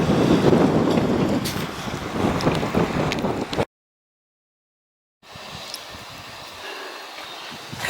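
Blustery wind on a hill walk near Borth-y-Gest and Porthmadog, buffeting the microphone in loud, rough gusts, then a silent gap, then steadier, lighter rushing wind; no talk.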